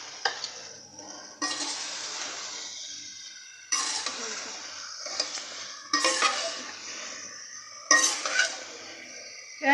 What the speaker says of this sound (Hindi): और अब हम इसमें शिमला मिर्च डालेंगे।